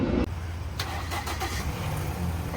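A Ford Escape, an airport surplus vehicle that needed a jump start, runs with a steady, loud engine idle close by, and there is a brief knock early on.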